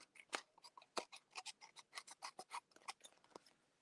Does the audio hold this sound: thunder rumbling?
no